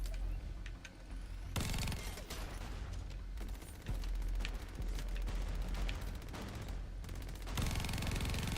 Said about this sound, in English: That minigun does a lot of damage.